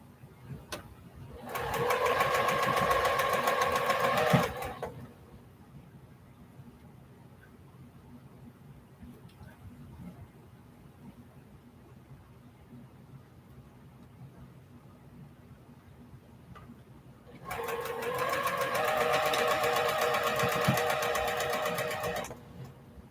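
Sewing machine stitching and back stitching a quilt seam, two loud steady runs of motor whir with a long quiet pause between, heard alone up close.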